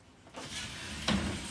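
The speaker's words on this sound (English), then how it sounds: "Now you can close your shower door." A camper's shower door slides and thumps shut, a brief mechanical rolling rub followed by a sharper close, near and alone.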